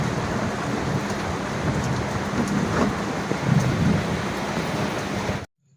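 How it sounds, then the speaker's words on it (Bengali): Steady heavy rain pouring outdoors with a low rumble of thunder rolling underneath, loud and continuous with no voices, cutting off abruptly at the end. "আকাশ ডাকছে, দেখতে পাচ্ছ, শুনতে পাচ্ছ তোমরা?"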